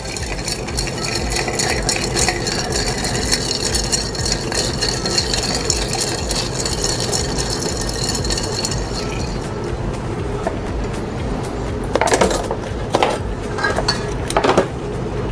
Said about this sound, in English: we're gonna stir it for about 10 seconds to 60 revolutions